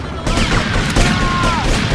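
Gunfire in GTA Liberty City Stories, a dense burst of rapid loud shots with crashing impacts, close and continuous, with no talk over it.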